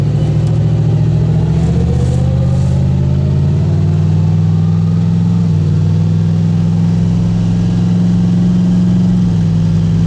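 A Ford Fairmont car engine runs steadily close up, a loud, low throbbing hum with slight shifts in pitch as the revs change, and no talking over it.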